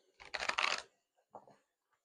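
Tarot cards shuffled by hand in a quick riffling burst of about half a second, followed after a pause by a shorter, softer flutter of cards; close and fairly quiet, with no talking.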